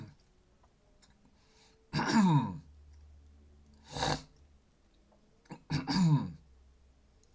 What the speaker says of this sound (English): Sorry if I'm clearing my throat.